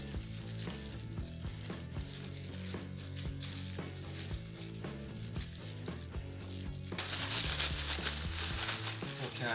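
Spicy Korean pork (jeyuk) fries in a pan with a soft, steady sizzle under background music, the hissing growing brighter in the last couple of seconds.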